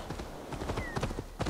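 Horse hooves clip-clopping in Assassin's Creed, a steady rapid trot of hoofbeats, close and prominent, with brief game sounds over the top.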